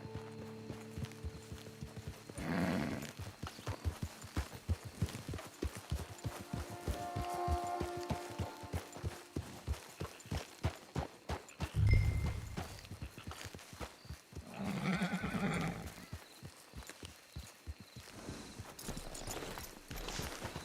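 Steady clip-clop of horse hooves walking along in Red Dead Online, with a couple of brief snorts and rustles, over a quiet background tone and faint bits of music.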